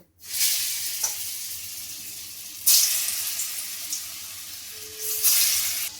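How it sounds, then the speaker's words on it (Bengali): Dhoka lentil cakes fry in hot oil, a loud, steady sizzle that swells at moments as pieces go in, with a brief tonal clink near the end and no talking. "তেলটা গরম হয়ে গেছে, এবার আমি ধোকাগুলোকে ভেজে নেব"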